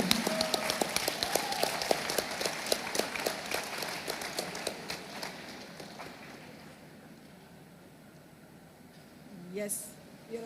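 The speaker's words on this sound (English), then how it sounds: "Let us give a big round of applause for the reception team." Applause at a youth festival for the reception team: steady, moderately loud clapping from a crowd for about six seconds, gradually dying away into low room noise with a brief swell of background sound near the end.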